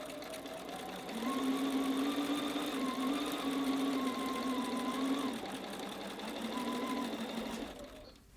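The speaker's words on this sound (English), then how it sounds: "to use her starter strip to just get the machine going, get it sewing a nice line." A sewing machine stitches quilt fabric strips, running close with a steady whirring hum and rapid needle chatter for several seconds, slowing slightly midway, then stopping at the end.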